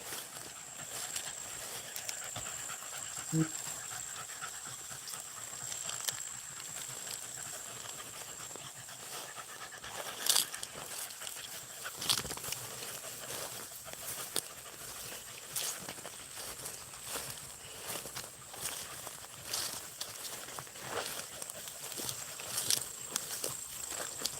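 Beagle hounds panting hard outdoors during a rabbit hunt, a quiet, steady rapid breathing with occasional rustles and footsteps in the brush, no talking.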